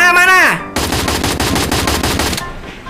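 Rapid automatic gunfire in a shooting video game, a dense burst of loud, evenly spaced shots lasting under two seconds, preceded by a short whooshing synthetic tone and followed by a faint tail.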